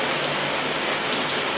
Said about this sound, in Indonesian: Dan tidak lama kemudian hujan pun turun sangat deras.